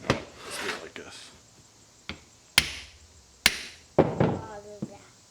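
A hammer knocks on the end of a hydraulic cylinder being taken apart, several sharp close strikes at uneven intervals, with a person talking between and under some of the blows.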